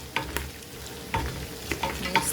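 Beef seasoned with pilau masala fries in a pot, a spoon stirring with several sharp scraping knocks over a steady sizzle, close and fairly loud.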